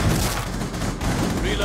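Gunfire in the Rainbow Six: Outbreak video game rattles in a dense, loud, continuous barrage of overlapping shots, with a player's voice mixed in.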